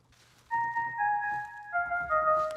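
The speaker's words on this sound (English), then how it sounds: "the way I try to replicate that key thing is using a Mosaic Keys preset from Heavyocity in Kontakt" A Mosaic Keys preset from Heavyocity in Kontakt plays a short sustained keyboard-like chord with a clear tonal pad, shifting pitch once partway through, heard alone at moderate level.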